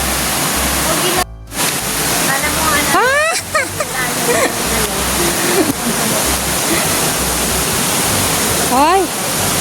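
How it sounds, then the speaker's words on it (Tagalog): A river flowing at Makiling Botanical Garden, a steady loud rush of water running throughout, with people talking and calling over it close by. "Ito yung ilog, guys, oh. Ilog ng Makiling Botanical Garden."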